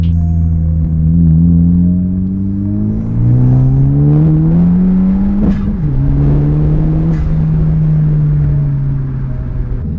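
A 10th gen Honda Civic Si fitted with a PRL Cobra cold air intake accelerates hard from inside the cabin, engine drone climbing steadily through gears with a brief dip at each shift, loud and continuous.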